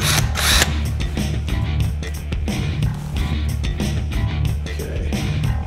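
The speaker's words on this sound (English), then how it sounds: "I'm going to stick the drill right in there and give it a couple of turns." Mechanical whirring and ratcheting of a power drill driving a screw, in short bursts with brief pauses, close and fairly loud.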